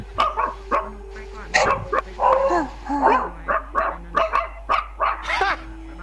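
A dog in a home barks in short repeated bursts, mixed with people chatting in Thai and a game-world voice chat backdrop, the yaps clustered and fairly close.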